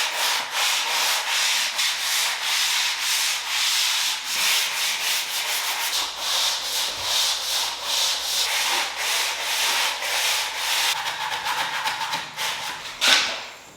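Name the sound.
sanding basement walls before painting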